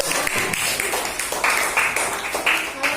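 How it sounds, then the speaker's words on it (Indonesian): Classroom applause for a student group, a burst of uneven hand clapping from several pupils with sharp individual claps and some voices mixed in, fairly close. "Berikan tepuk tangan untuk kelompok 1."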